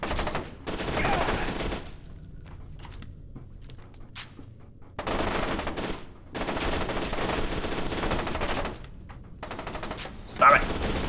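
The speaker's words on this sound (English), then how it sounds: "Thought somebody shot at me." Bursts of video game gunfire from FEAR 2, loud stretches of rapid shots separated by quieter gaps, with a sharp blast near the end.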